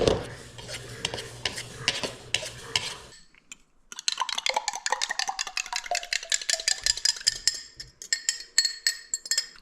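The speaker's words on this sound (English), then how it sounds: "Mix up flour first." Flour being stirred and mixed in a bowl with a utensil for homemade egg noodles, a rapid run of scraping clinks and taps that stops briefly, then resumes brighter and busier.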